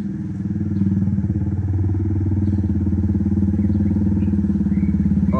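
A motorcycle engine idles close by with a steady, even putter that holds firm throughout.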